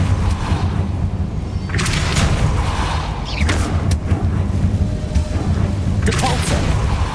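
Depulso force spell effects in the video game Hogwarts Legacy, several loud concussive blasts with creaking, thudding impacts over a constant low game rumble, spaced a few seconds apart, with no talking.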